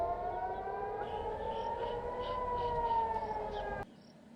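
Civil defense siren over Jerusalem holding a steady distant wail with faint chirping in the background, then cutting off abruptly near the end.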